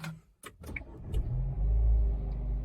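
A Dacia Duster engine cranks and catches, settling into a low steady idle after a few brief clicks and thumps.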